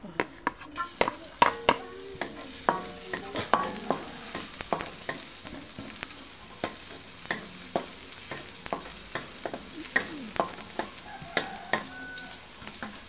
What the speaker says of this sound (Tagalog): eto na guys, igigisa ko muna, kunting pala